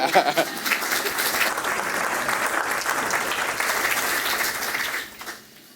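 An audience claps during an interview event, sustained dense applause that holds steady and then quickly fades out near the end.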